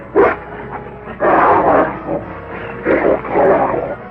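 Dogs barking and snarling in loud, aggressive bursts on a 1961 film soundtrack, close and agitated, with rough growling between the barks.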